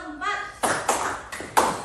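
Several sharp hand claps ring out in a loose sequence, each a quick bright burst, following a brief Indonesian voice at the start, as a class claps on counted commands.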